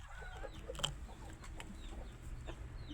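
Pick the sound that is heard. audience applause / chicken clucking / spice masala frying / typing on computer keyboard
chicken clucking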